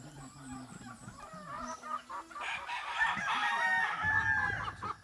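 Rhode Island Red chickens, including two roosters, cluck close by in a backyard, then a rooster crows loudly over the flock's continued clucking.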